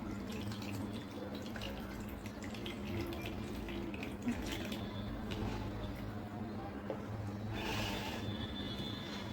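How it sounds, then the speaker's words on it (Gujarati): Water splashes and trickles into a pot of washed fenugreek seeds under a low, constant hum, with a brief louder gush near the end. "પાણી અંદર નાખી દઈશું."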